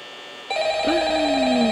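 A telephone rings in the horror video game Five Nights at Freddy's, a steady electronic ring with bright overtones starting abruptly halfway through, loud and close, with no talk over it.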